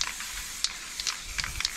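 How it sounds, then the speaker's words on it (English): Black aerosol spray paint hisses from a can in short broken bursts, close and fairly quiet, with no talk over it. "I'm just spraying that now with some black spray"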